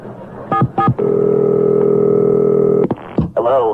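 Phone dialing for a prank call: a few short tone bursts, then a long steady tone of several stacked pitches that holds for about two seconds before cutting off, with a voice coming in right after.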